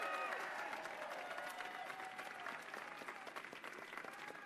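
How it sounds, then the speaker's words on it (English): Crowd at an outdoor vigil applauding steadily, a dense wash of many hands clapping at a moderate distance that carries on throughout with no pause. "Let's give them a round of applause."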